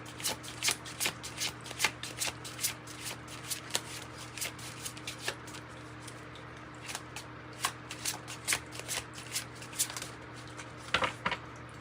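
Oracle cards from an In the Shadows deck being shuffled by hand, a steady run of crisp riffling snaps and flutters, close and fairly quiet, with no talking over them.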